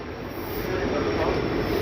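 A freight train passing on an Indian rail line, heard from aboard a moving train: a steady, loud rumbling roar of wheels and cars that holds constant for the short stretch.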